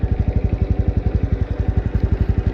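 A Honda Super Cub 110 motorcycle's small single-cylinder engine runs with a steady, rapid low putter, close and loud, with even pulses and no talk.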